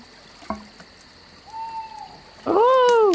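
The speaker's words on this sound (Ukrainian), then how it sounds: "та аж сова загуділа" An owl hoots in the Rusty Lake Paradise video game: a soft rising tonal call, then a louder, wavering hoot against a faint ambient background.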